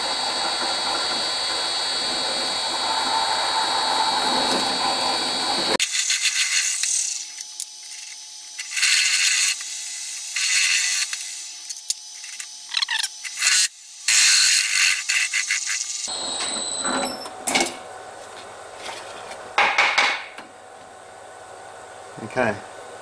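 A larger drill bit bores slowly through metal for a barbecue burner, with coolant applied, giving intermittent grinding, whirring bursts separated by pauses, close by, with a voice talking at the start.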